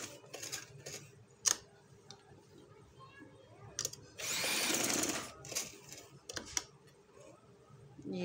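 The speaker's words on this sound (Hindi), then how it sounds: "मशीन के साथ जो है वो यहाँ पे थोड़ी थोड़ी सिलाई लगा देनी है" A sewing machine stitches a neckline in short runs, with a faint ticking hum between bursts and one louder sustained whirring stretch of stitching midway, plus scattered clicks and handling knocks.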